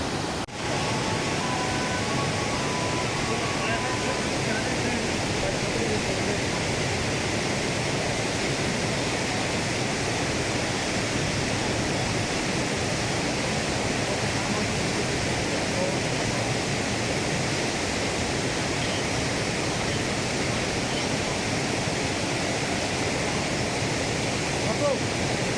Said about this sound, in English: Lot of power as he charges down the river